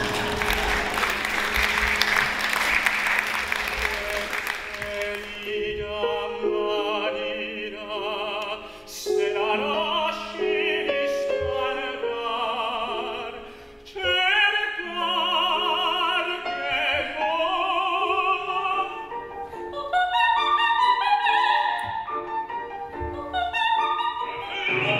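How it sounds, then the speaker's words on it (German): Audience applause at a 2016 singing competition, a dense, loud burst of clapping for about five seconds that gives way to orchestral music and singing. "Und jetzt dürfen Sie klatschen"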